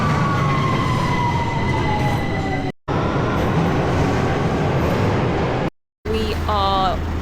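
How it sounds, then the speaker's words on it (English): A London Underground Victoria line train rumbles loudly, close by and continuous, with a long falling whine and a few brief cut-outs. Near the end there is a short warbling electronic tone. "just heading to the Victoria line to get the train to Vauxhall"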